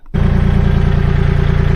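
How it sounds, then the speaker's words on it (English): A tractor engine starts up and runs loud and close with a steady, throbbing low idle that pulses evenly throughout, alone with no voices. "start getting it out on the tractor bucket"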